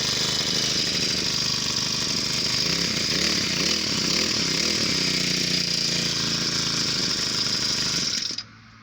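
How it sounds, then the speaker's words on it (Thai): A small four-stroke petrol brush cutter engine runs steadily at high revs, a loud buzzing drone close by that cuts off abruptly near the end. "เครื่องยนต์ติด"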